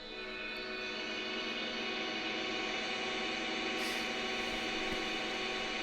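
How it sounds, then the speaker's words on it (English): An infinite digital reverb from the Airwindows Infinity plugin, using a Householder algorithm, sustains as a dense, unbroken wash of layered tones that hums steadily without decaying, with no voices. "what you're hearing is it doing an infinite reverb"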